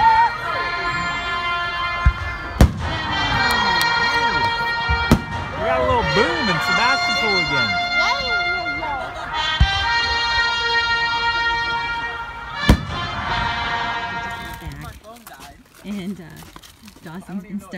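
Fireworks bang and crackle in sharp bursts amid a dense layer of whistling and screeching launches, with voices talking throughout.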